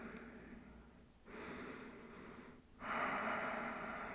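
Slow, audible Ujjayi breaths drawn through a constricted throat while resting in yoga child's pose, three long soft hissing waves rising and falling, the last one fullest, with no talking.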